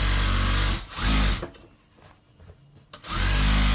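A sewing machine stitches elastic onto a churidar pajama waistband, two loud motor runs with a quieter pause of fabric handling between them.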